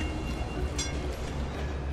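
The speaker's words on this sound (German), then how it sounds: "oh, Straßenbahn." A tram rolling through a Cities: Skylines city, heard as a steady low rumble with a faint rail squeal, moderate loudness and no voices.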